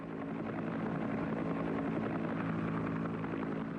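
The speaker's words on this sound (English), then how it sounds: "a wounded man could expect to be picked up by medevac helicopter in less than half an hour" A medevac helicopter drones steadily throughout, a dense, continuous rotor and engine roar at close range with no voices.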